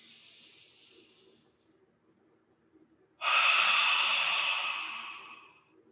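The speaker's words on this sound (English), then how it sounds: "Nice, easy breath." Slow, audible breathing during a yoga session: a soft, fading exhale followed by a pause, then a loud, long breathy rush that gradually tapers off, close and clear with no talk over it.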